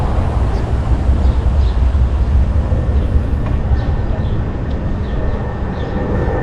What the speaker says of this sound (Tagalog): Back to back ang train dito na daan